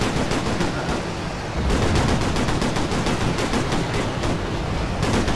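Gunfire from the military shooter Operation Flashpoint: Red River: dense, continuous volleys of shots crackling from several directions, loud and sustained throughout with no pauses and no talking.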